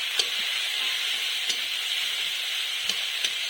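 Ginger and garlic paste sizzles in hot oil with ground onion and chilli, a constant close, bright frying hiss broken by a few soft spatula taps against the pan.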